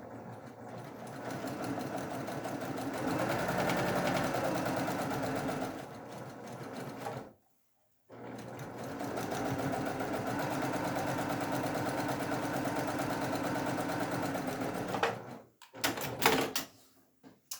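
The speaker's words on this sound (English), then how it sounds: "I've sewn the first sashing strip to my first set of blocks." Sewing machine running steadily as it stitches a quilt sashing strip to a row of blocks, a fast even whir that stops briefly, resumes for a long run, then ends with a few short bursts and clicks.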